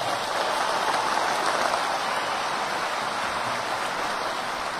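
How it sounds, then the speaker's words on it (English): An awards ceremony crowd applauds in a thick, continuous wash of clapping that blends into a loud, rain-like hiss, sustained and even throughout with no talk. "just please give a round of applause"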